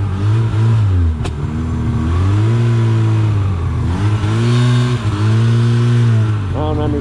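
A Ski-Doo Skandic snowmobile engine runs loudly nearby, its pitch repeatedly rising and falling as the throttle is revved and eased, with a sharp click partway through and voices briefly audible.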